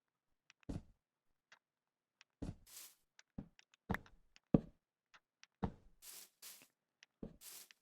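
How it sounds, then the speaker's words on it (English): Oak wood plank blocks are placed one after another in Minecraft, making sparse, hollow wooden knocks at irregular intervals, some followed by a soft brushing crackle, in an otherwise quiet setting. "I'm switching over to my oak wood planks here, and I'm just going to fill in the walls"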